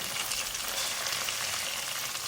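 Chopped green chillies fry in a pan, giving a short burst of steady, dense sizzling hiss at moderate loudness with no talk.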